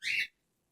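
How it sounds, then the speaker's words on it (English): A single short, bright bird whistle rings out nearby, followed by a faint brief chirp. "My birds don't know how to be quiet."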